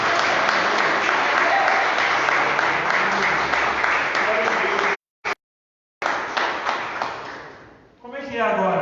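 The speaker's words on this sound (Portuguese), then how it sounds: "nós podemos dar um aplauso para Jesus pela vida deles" Church congregation applauding during a Sunday service, a loud sustained wave of clapping that cuts out abruptly, then resumes and fades, followed by a few faint tones.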